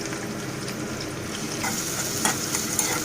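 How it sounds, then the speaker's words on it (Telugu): Finely chopped green chillies and onions frying in a generous amount of hot oil: a dense, close sizzle that swells partway through, punctuated by a few light clicks of a stirring utensil. "ఆయిల్ హీట్ ఎక్కిన తర్వాత సన్నగా తరిగి పెట్టుకున్న పచ్చిమిర్చి ఆనియన్స్ని ఇందులో వేసేసుకోవాలి"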